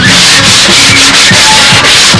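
A boat hull is hand-sanded in long front-to-back strokes, a loud close rasping scrape repeating in an even rhythm of about four strokes per second.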